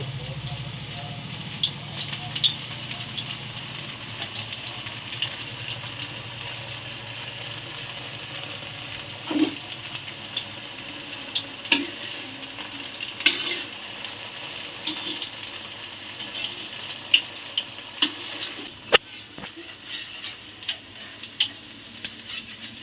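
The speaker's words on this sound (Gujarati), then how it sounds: "અને એકદમ ક્રિસ્પી થાય ત્યાં સુધી તળાવવા દેવાના છે" Soft, steady sizzling of leftover-rice snack pieces deep frying in hot oil in a kadai, with faint scattered pops and light clinks throughout.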